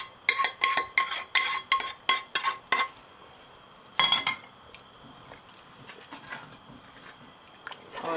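Spoon clinking and scraping against a pot as hot tadka tempering is stirred into masoor dal, a quick run of loud metallic clinks followed by quieter intermittent stirring.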